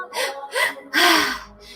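Deep, audible breathing during a breathwork meditation, several long rushing inhales and exhales in a slow rhythm, close and fairly loud.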